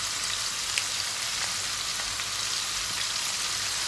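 Minced pork stir-frying in a hot pan gives a steady, dense sizzle and crackle close by, with faint scrapes of stirring and no talk.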